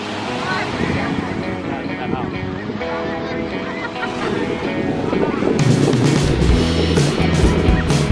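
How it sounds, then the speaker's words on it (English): Wind buffeting a microphone at a beach on a cold, windy day, with gusty low rumbles that grow heavier toward the end while people talk over it. "It was so windy today."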